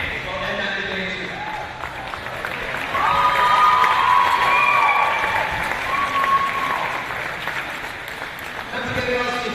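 Crowd applause and cheering at a basketball grand final team presentation, sustained clapping swelling midway with whoops and children shouting, fairly loud in a large hall, with a voice over the start and end.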